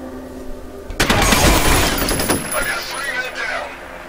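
Gunfire from the trap gun in the video game F.E.A.R. erupts as a sudden loud burst of rapid shots, then fades into a decaying rumble with scattered echoes.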